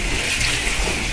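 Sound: hot tap water rinsing meat

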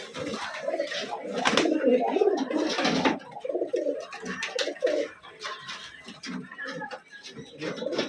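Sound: pigeons cooing in a loft

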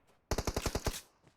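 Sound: gunfire in the video game PUBG Mobile

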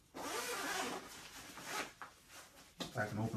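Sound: zipper on Decathlon rain pants being opened

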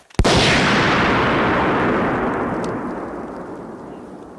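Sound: Claymore mine explosion

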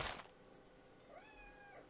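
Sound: cat meowing

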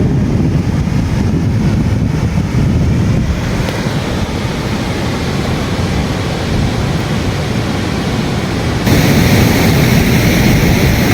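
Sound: river fresh water flowing into the sea, waves

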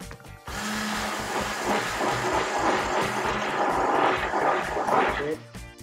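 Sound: hand blender mixing

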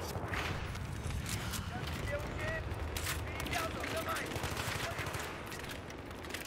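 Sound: gunfire in video game Battlefield 3

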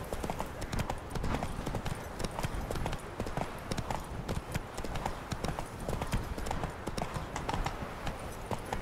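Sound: horse hooves clip-clopping, from a video game

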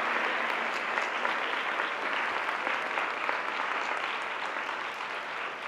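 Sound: audience applause for Rob Hopkins

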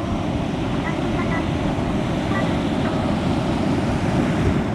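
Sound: ocean wave crashing on rocky shore

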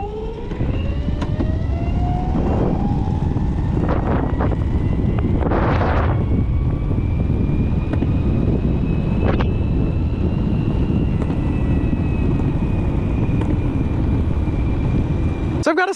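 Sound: wind noise while riding a board at fast speed

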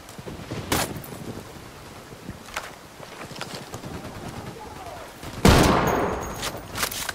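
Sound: gunshots in Ghost Recon Wildlands video game

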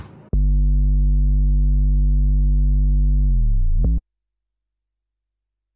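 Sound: 808 bass sound in a music production

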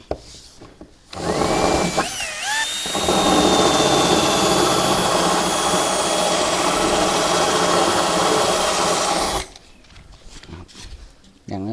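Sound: power drill drilling holes for solar panel mounting

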